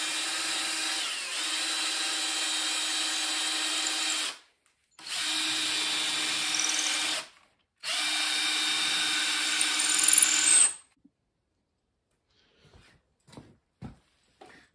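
A power drill with a long bit whines steadily in three long bursts separated by short pauses, then stops, leaving a few faint knocks and clicks.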